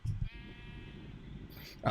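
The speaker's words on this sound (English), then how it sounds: "Here we are. Sheep. Come here, sheep." A Minecraft sheep gives one drawn-out, fairly quiet bleat, with a short burst of louder sound just before it and another right after.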